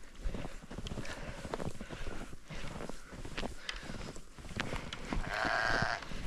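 Sheep bleat outdoors in a snow storm over a rough background of wind, with a couple of short calls near the end.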